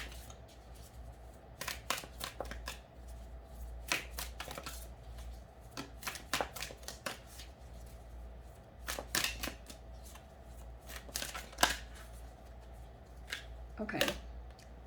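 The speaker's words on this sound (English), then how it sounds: "let me finish pulling the cards" Tarot cards shuffled and pulled from the deck, scattered crisp riffles and slaps near the listener over a low steady hum, with a voice speaking quietly at moments.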